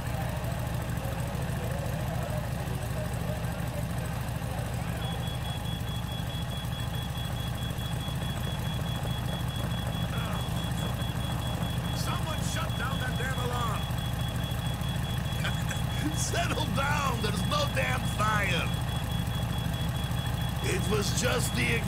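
A collector motorbike in the Thief of Thieves video game idles with a steady low, rumbling engine drone throughout, while muffled voices and other scattered sounds come in toward the end.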